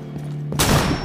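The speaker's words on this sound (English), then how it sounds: "Let me just throw a flashbang in there." A flashbang grenade goes off in Rainbow Six Siege, a sudden loud burst that cuts in after a low hum and rings on briefly with a harsh, noisy blast.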